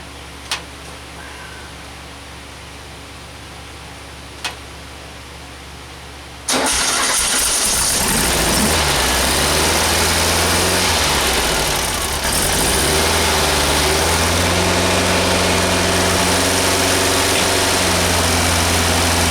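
A few faint clicks, then a Volkswagen 1800 engine cranks and catches, settling into a steady, loud idle that runs on alone.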